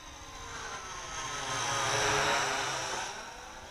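Syma X8C budget quadcopter drone flying at full forward pitch, a steady whirring propeller buzz that swells as it passes closer around the middle and then eases off, with no talk.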